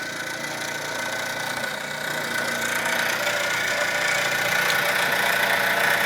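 A 1949 Mamod Minor 1 toy steam engine with a raised base and a disc crank flywheel runs close by. It gives a continuous, fast, buzzing whir that grows slightly louder and steadier, with no talk.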